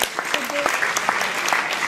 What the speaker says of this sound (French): bravo à vous, on peut les applaudir